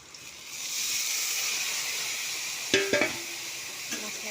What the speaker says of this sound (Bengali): আমার মশলা ভাজা কমপ্লিট, এখন জল দিয়ে দেবো।